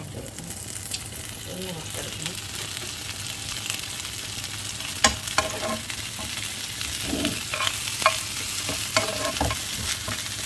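Food sizzles in coconut oil in a pan, a steady frying hiss broken by repeated scraping and clinking strokes of a spoon stirring it, heard up close.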